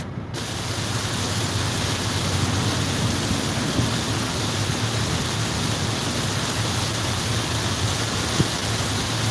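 Heavy rain pours steadily in Elizabethtown, Pennsylvania, a dense, constant roar with no breaks and a faint thump near the end.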